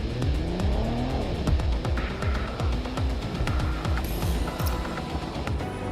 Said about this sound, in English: Now you'll see some real driving.